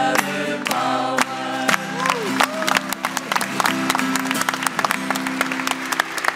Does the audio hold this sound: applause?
yes